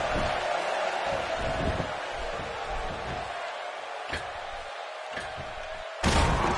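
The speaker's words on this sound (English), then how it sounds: "This crowd going crazy for Stone Cold Steve Austin" Arena crowd in the WWE 2K16 wrestling game roaring steadily for Stone Cold Steve Austin, a continuous loud wash of cheering with a few sharp slams and a louder impact surge near the end.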